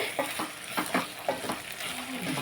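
Potatoes frying in a pan and being stirred, a soft sizzle under repeated scraping strokes that come in an uneven rhythm, close and moderately quiet with no talking.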